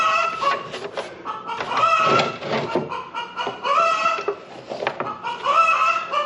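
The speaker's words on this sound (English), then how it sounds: "Hey, here are the chickens." Several chickens cluck continuously nearby, overlapping calls with a busy, steady rhythm and no talking.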